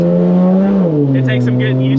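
A 2JZ-swapped BMW E30 with a dual-clutch transmission pulls away gently from a takeoff, its engine holding a steady mid-range drone that dips once as the gear changes, then settles into a smooth, even pull.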